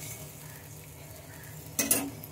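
A spoon stirs a ground cardamom spice mixture in a frying pan, giving a soft low sizzle and then one brief, louder scraping burst near the end.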